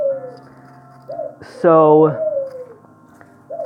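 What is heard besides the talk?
doves cooing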